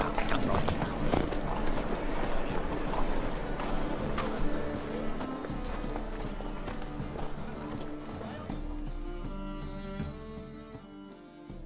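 Hooves of the horse Roach galloping in The Witcher 3, a steady loud clip-clop rhythm under game music that thins out toward the end.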